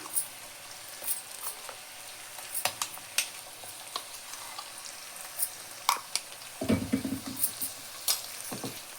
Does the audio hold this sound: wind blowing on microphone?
no